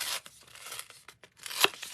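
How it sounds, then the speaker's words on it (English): A scrap of paper is torn by hand at a stamping craft table in several short ripping bursts, one near the start and a sharper, louder rip toward the end, with quiet pauses between. "I'm just going to tear that scrap off"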